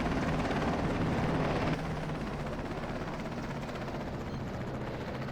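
A helicopter flies in Battlefield 2 AIX 2, its rotor a loud, continuous, throbbing drone that eases slightly partway through and carries on steadily, with no speech.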